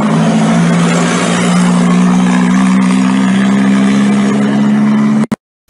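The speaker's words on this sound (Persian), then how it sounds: "مردم اعتراض خودشون با گذاشتن تراکتور رو نشون میدن" Tractors parked at a farmers' protest in eastern Isfahan run with a loud, steady engine drone and a strong low hum, continuous and close for several seconds before cutting off abruptly.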